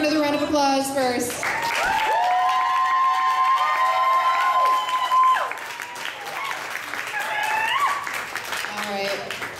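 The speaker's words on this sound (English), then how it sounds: "give her another round of applause first." An audience at a Seattle performance breaks into applause and cheering, with a loud sustained whoop near the start, then scattered claps and crowd voices fading down.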